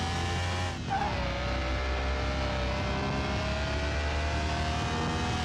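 A Nissan Fairlady Z S30 with added performance parts drives in Car Mechanic Simulator 2021, its engine droning loud and steady throughout, pitch dipping briefly early on then climbing again as it accelerates, with tire noise underneath.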